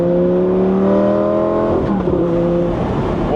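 A Lamborghini Gallardo Spider's engine sounds loud and close, a steady growl that drops in pitch as the revs fall, then settles into a rougher, lower drone.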